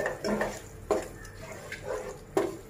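Prawns get stirred in a pan with soy and tomato sauce: soft, close spoon scrapes and a couple of light clinks over a faint sizzle, with no talking.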